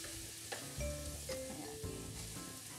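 Onions sizzle steadily in oil in a pan as they sauté, with a few brief scrapes and clinks of a utensil stirring; no voices.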